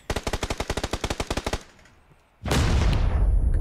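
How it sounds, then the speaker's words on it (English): Automatic gunfire in the video game PUBG on the Miramar map fires a rapid burst of about fifteen sharp shots. After a short pause a louder, sustained blast of noise follows. "the colonel's now firing at the other guy."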